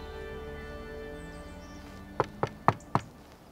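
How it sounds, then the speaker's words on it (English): Four sharp knocks on a door in a caveman's woodland dwelling, evenly spaced and fairly close, struck alone over a quiet steady background hum. "I hear you knocking, but you can't come in."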